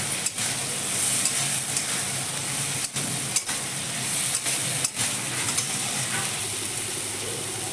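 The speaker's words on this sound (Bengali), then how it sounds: "মশলা কষানো হয়েই গেছে, এখন আন্দাজ মতো জল দেব" Spice paste for a fish curry with potato and eggplant sautéing in a pan, a loud continuous sizzle broken by repeated spatula scrapes and stirring knocks, no talking.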